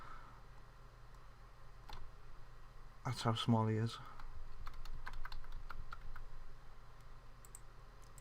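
Computer keyboard keys click in scattered taps under low room hiss, with someone speaking briefly midway.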